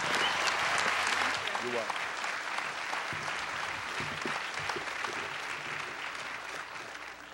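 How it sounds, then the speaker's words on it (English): Applause from a commencement ceremony audience rolls on steadily from a large crowd, with a brief spoken voice near the start partly under the clapping. "Let's give her another round of applause."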